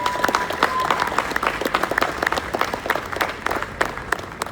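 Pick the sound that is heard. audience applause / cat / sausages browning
audience applause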